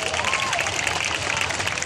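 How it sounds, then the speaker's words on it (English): A large crowd at a national Catholic youth day gathering in Cebu applauds in a short burst of dense, reverberant clapping with a faint cheer, and a voice rises briefly in the first half. "Shall we give the Santo Niño a round of applause,"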